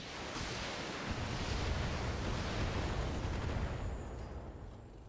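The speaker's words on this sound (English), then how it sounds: "Can I shoot him with my long-range missiles?" A volley of long-range missiles fired at a mech in BattleTech erupts as a broad, roaring wash of blasts that swells and then fades out toward the end, with no talk.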